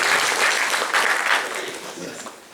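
Audience at a business summit bursts into applause, a dense wash of clapping from a sizable crowd that holds loud for a moment and then gradually thins out.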